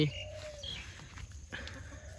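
Soft bird calls over a steady outdoor background hum at a chicken farm in the evening, with a faint drawn-out dove cooing tone repeating in the distance.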